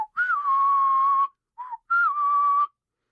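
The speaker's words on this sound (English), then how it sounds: "like this 3-note, almost a whistle thing" A short three-note whistled Peter Pan leitmotif from the 1953 Disney film, heard as two long sliding whistled phrases split by a brief chirp, clear and close with no talking.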